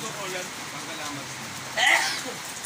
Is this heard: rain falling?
yes